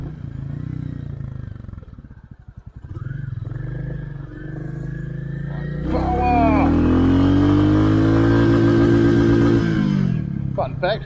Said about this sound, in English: This is more what this bike's for, sort of just pottering around town.